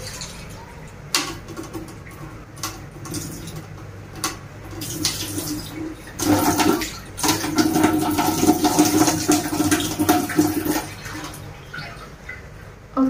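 Beef is rinsed under running tap water, heard as uneven splashing and gushing water that swells and fades over about thirteen seconds, with a few clanks and no talking.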